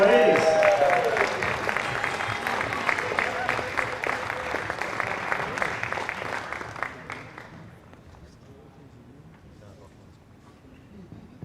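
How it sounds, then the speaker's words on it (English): Spectators at a national boccia championship medal presentation clap for a silver medallist, a brisk round of applause under a brief announcer voice that dies away after about seven seconds into quiet room tone. "Big round of applause, please."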